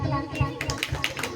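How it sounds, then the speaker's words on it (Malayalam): An audience claps after a dance performance, a quick rhythmic patter of hands rising partway through and running under voices and children's chatter. "എല്ലാവരും നല്ലൊരു ക്ലാപ്പ്."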